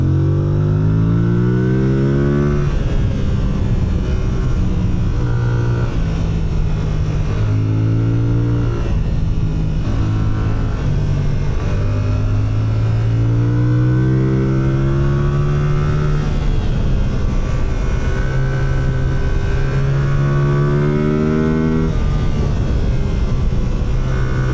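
A 2026 Yamaha R7 motorcycle engine revs repeatedly toward its rev limit, loud and close, with rising and falling pitch sweeps across repeated pulls and no talk.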